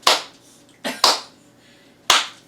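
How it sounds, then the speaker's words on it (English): A slow clap in a kitchen, four sharp separate claps spaced unevenly about a second apart, near and loud with quiet gaps between. "Everybody slow clap."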